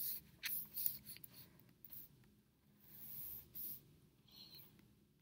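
A pencil scratches across paper while someone draws a plain horizontal line for a simple sketch of lips; the scraping is faint and close, in short uneven strokes with brief pauses, and nobody speaks.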